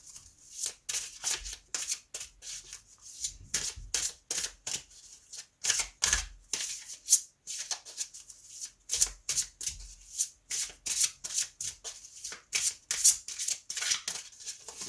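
Tarot cards are shuffled close up in repeated quick riffling bursts with short pauses between, crisp and fairly quiet, with no talking.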